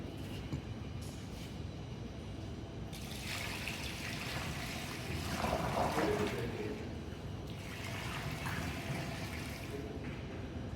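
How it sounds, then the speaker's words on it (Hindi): Steady splashing of warm water pouring into a Frigomat FR260 batch freezer, a continuous rushing trickle that swells briefly in the middle before settling back. "आपने पानी डाल दिया इसके अंदर"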